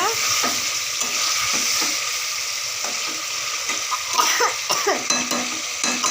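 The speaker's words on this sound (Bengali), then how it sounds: "আমার মাছ রান্না প্রায় কমপ্লিট হয়ে গেছে" Fish curry cooking in a pan at home, with loud, repeated stirring scrapes of a utensil over a steady sizzle, clattering more busily toward the end, no talking.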